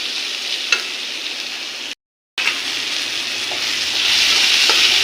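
Chopped tomato and spice masala is stirred and fried in a pan for a coconut chutney served with dosa. A loud, continuous sizzle carries faint scraping clicks and drops out for a brief silent gap midway.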